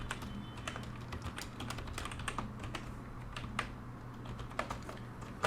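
Computer keyboard keys clicking as Flutter code is typed, a quiet, steady patter of irregular keystrokes close by, with a faint hum underneath.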